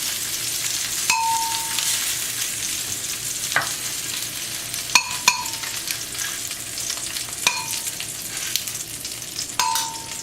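Beef pieces brown in a skillet for beef bourguignon with a steady, close sizzle. Several bright metallic clinks and clangs from a utensil striking the pan punctuate it.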